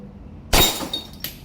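A shooting target shatters with a sharp breaking crack after a hit from a WE Hi-Capa 3.8 Brontosaurus airsoft pistol, followed by a few brief glassy clinks of falling pieces.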